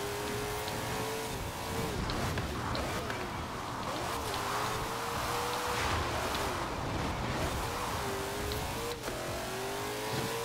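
A Ford GT40 race car in Forza Horizon 4 roars continuously, its engine pitch climbing and falling through repeated gear changes and revs, loud and close throughout, with voices mixed in beneath.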